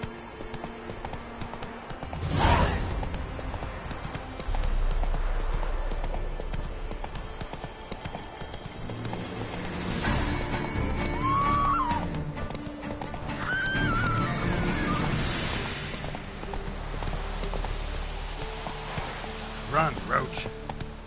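Roach, a video game horse, gallops with steady clip-clop hoofbeats under intermittent speech, a whinny partway through, and rain-like hiss in the background.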